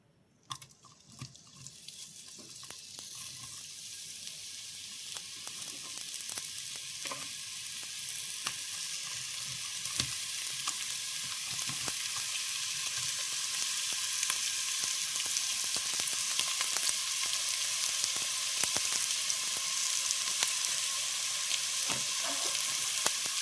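Onions frying in a pan of hot sunflower oil and ghee for biryani, giving a steady close sizzle that builds and then holds for the whole stretch, with occasional crackles and no talking.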